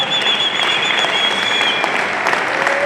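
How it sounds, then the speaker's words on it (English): Audience applause at a men's conference held by Rand Water: a steady wash of many hands clapping, loud and sustained, with a faint tone running underneath. "Please, another round of applause for Dr."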